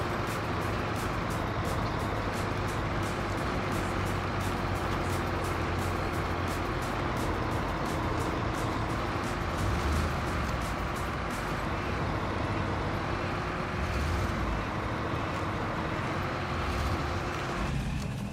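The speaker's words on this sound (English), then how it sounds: "This truck is pretty bouncy going over all these rocks." A truck engine in the video game SnowRunner drones steadily while driving over rocks, a continuous loud rumble with rhythmic rattling and clunking throughout.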